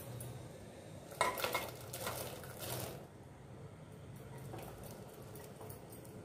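Raw papaya pieces tipped into melted sugar in a cooking pan, giving a brief burst of clattering and scraping, then settling into a quieter, steady simmering hiss with light stirring, close by.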